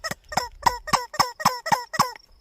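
A squeaky rubber toy chicken squawks in eight rapid, evenly spaced honking bursts as it is struck repeatedly, loud and close with no other sound.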